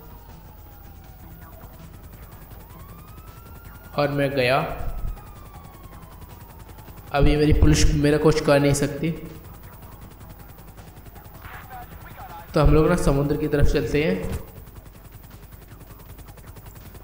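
A GTA 5 helicopter drones steadily throughout, its rotor hum a constant backdrop while someone talks in three separate bursts over it.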